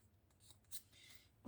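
Scissors snip through paper in a few quick, quiet cuts close by, ending in a louder crisp snip; no voices.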